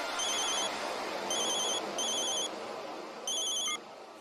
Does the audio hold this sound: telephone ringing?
yes